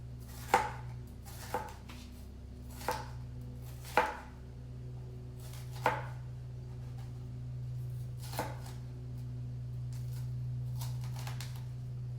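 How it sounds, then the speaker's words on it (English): A knife slicing vegetables thinly on a cutting board while preparing Thai holy basil chicken, giving about eight sharp, close chops spaced irregularly over a steady low background hum, with no talking. "And then gonna cut again. The same size as the green beans."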